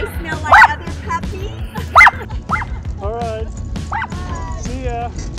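A dog out for a ride in the park barks sharply twice, loud and close, then gives softer yips and whines while people talk throughout.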